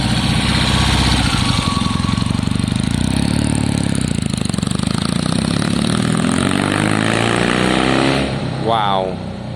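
A Triumph Bonneville T120 motorcycle, fitted with a Pazon electronic ignition upgrade, runs loud and close with a steady, throbbing engine note that rises and falls slightly, filling the whole clip before easing off at the end.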